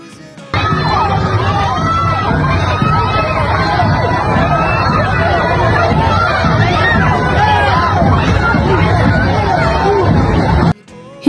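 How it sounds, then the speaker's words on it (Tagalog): A street crowd roars with a dense, steady hubbub of shouting and cheering as actress Loisa Andalio walks by playing Reyna Elena in a procession in Gingoog City. The noise stays loud and continuous, then cuts off near the end. "Hindi magkamayaw ang sigawan at tuwa ng mga tao nang makita nilang naglalakad si Loisa Andalio sa kalsada."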